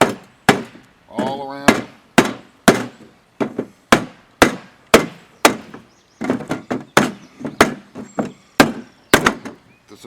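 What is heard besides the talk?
hammering roofing sheet metal into place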